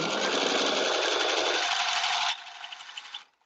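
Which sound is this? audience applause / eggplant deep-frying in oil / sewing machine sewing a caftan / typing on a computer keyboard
sewing machine sewing a caftan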